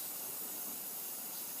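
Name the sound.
spray paint can spraying a mask black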